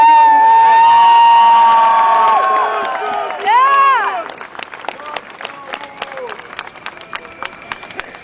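Outdoor rally crowd at the 2009 Hash Bash breaks into clapping and cheering. A loud whining feedback tone rings at first, then a dense spread of hand claps continues steadily while voices carry underneath.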